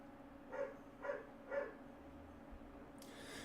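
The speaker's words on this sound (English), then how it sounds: "she is barking her ass off" Three evenly spaced dog barks ring out at moderate volume, followed by a brief higher-pitched noise near the end, over a quiet steady hum.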